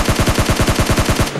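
Rapid automatic gunfire from a battle royale video game, a steady burst of about a dozen close, loud shots in quick even rhythm that cuts off abruptly near the end.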